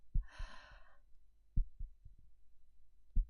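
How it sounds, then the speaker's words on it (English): Close, muffled heartbeat thumps in soft pairs, about one beat every one and a half seconds, heard as if listening against someone's chest during a comforting embrace, with a soft breath at the start. "I do as told and listen to her heartbeat"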